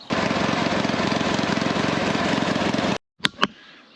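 A homemade monster lawn mower runs loud and steady while mowing, its engine drone continuous for about three seconds before cutting off abruptly, followed by two short knocks.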